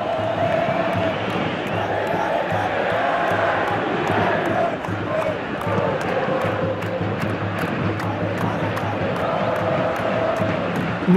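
Stadium crowd noise from a PES football video game, São Paulo versus Flamengo in the 2022 Brasileirão, a steady loud roar with swelling cheers running throughout, with a commentator talking over it.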